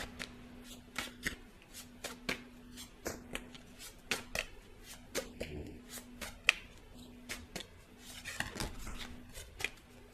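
Tarot cards being shuffled by hand: quiet, rapid crisp snaps and riffles in an uneven stream, close up with no talking.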